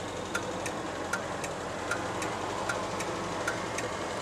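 Triumph Spitfire 1500 engine cooling down, with faint, irregular metallic ticks and clinks spaced roughly half a second apart over a low, steady background hum, no one speaking.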